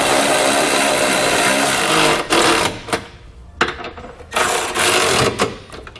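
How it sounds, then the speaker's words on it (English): A ratchet with a 19mm socket snugs bolts on a trailer hitch being fitted to a 2016 Chevrolet Equinox, giving loud buzzing mechanical runs in several bursts separated by short pauses. "I'm just going to snug up all my hardware."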